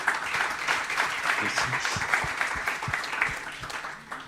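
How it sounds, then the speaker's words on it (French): An audience at a scientific foundation conference applauds two speakers with steady, moderately distant clapping that carries on throughout, and a voice briefly speaks over it. "Je pense qu'on peut applaudir les 2 intervenants."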